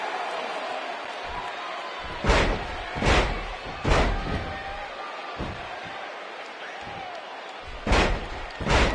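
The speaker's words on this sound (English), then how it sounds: "And her whole body comes slamming down." Heavy body slams onto a wrestling mat in a wrestling video game, several loud thuds spaced a second or so apart over continuous crowd noise, close and booming.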